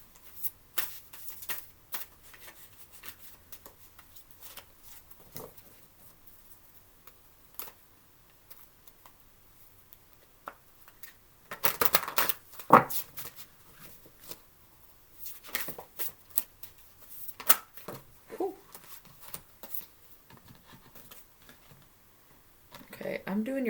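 Tarot cards riffle and slap in scattered bursts, with a louder flurry midway and soft taps and handling clicks between, under occasional quiet talking.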